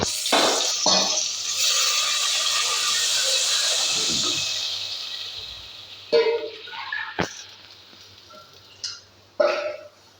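Water poured into a pot in a kitchen, a rushing splashing stream for about four seconds, then quieter clinks and knocks of vessels and a few short bursts of handling.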